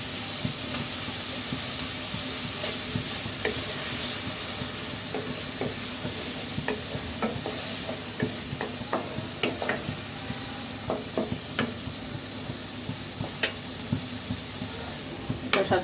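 Chopped tomatoes hiss and sizzle in a hot pan for an egg dish with aubergine and tomato, with steady frying crackle and scattered stirring scrapes and clicks throughout, no talking.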